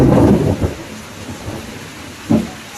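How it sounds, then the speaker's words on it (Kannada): Loud cracks and rolling rumbles of thunder break over steady rain during a thunderstorm, with a heavy burst at the start and another sharp clap near the end. "ಸಿಡಿಲು ಬರ್ತಾ ಇದೆ ತುಂಬ ಜೋರಾಗಿ"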